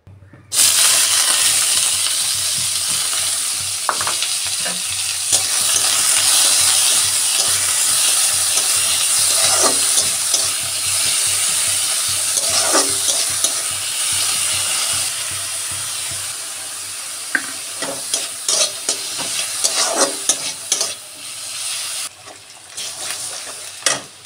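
Food fries in a pan with a continuous close sizzle and hiss, while a utensil stirs and scrapes the pan in repeated sharp clinks and scratches.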